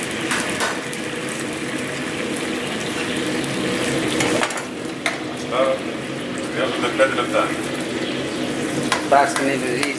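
Shrimp frying in a pan with honey and salt water, a steady loud sizzle running throughout, with stirring scrapes and a few clinks of utensils near the end while a person talks over it.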